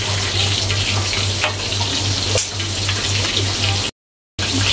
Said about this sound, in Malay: Sebelah ni kita goreng ayam